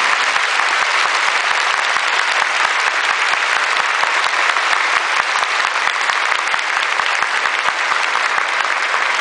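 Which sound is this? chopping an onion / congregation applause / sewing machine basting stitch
congregation applause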